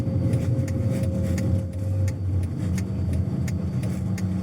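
Steady road noise of a car driving with a heavier truck rumble passing close alongside, a continuous low drone with faint rhythmic ticking, no voices.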